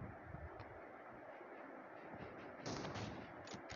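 Sniper rifle shot fired into the air in a mobile battle game, heard as a sharp burst late in a brief, noisy stretch of game audio, close and loud with no talk.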